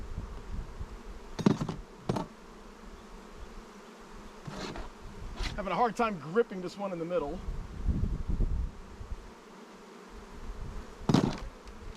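Honeybees buzzing around open hives during installation of two single-story hives and a nuc, a steady nearby hum with louder passes, while someone talks intermittently over it.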